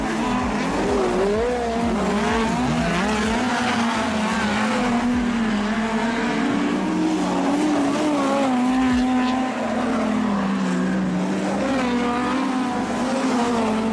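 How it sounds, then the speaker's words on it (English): Speedcars race around a dirt speedway oval at a Fraser Coast Cup meeting in Maryborough, engines roaring loud and continuous as the pitch rises and falls with the cars sweeping through the turns and down the back straight. "Through turn 1 and 2. Down the back chute, and Connor Smith lets it drift a little high"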